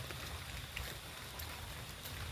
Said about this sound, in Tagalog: hindi pa natila yung ulan.